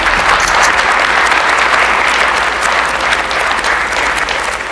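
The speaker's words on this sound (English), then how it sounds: "please join me in marking this occasion with a warm round of applause" A crowd gives a warm round of applause as a ribbon is cut at a ceremony in the British Parliament. The clapping is loud, dense and close, holding steady for the whole stretch with no speech over it.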